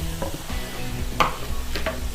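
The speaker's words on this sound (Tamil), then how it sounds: "இது எல்லாமே பச்சை வாசனை போகிறதுக்காக தான் வதக்கிறது" Finely chopped cabbage, coriander, curry leaves and mint sautéing in a pan, a close, brief sizzle with stirring scrapes and a sharp clink of the spoon against the pan partway through.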